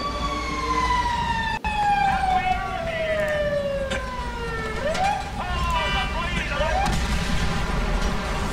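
A fire engine siren in GTA 5 wails loudly and close, sliding down in one long tone and then breaking into repeated rising whoops over engine and street noise.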